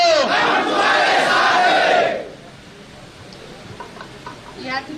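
A large crowd of farmers at a rally for soybean and cotton growers roars out a loud chanted slogan in unison for about two seconds, then falls away to quiet murmuring.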